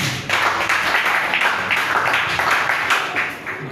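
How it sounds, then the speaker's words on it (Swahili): A church congregation claps together in a steady, sustained round of applause that fills the room. "Tumpige Yesu makofi."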